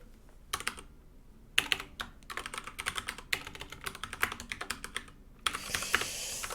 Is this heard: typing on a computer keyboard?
yes